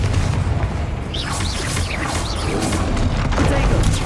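Bombarda and Confringo explosive spells blast during a Hogwarts Legacy duel, a dense run of booming hits and crashes stacked over a loud continuous rumble, with brief voice-like chirps in between.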